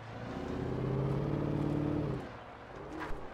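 Engine of a muscle car driven in the video game Alan Wake, a steady droning rumble that holds for about two seconds, then drops away, with a faint click near the end.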